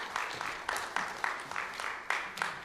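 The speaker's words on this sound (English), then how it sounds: "let's give Ryan and Michael a round of applause" Light applause from a seminar audience at an estate and financial planning talk, a few scattered hands clapping in a thin, uneven rhythm, fairly quiet and brief.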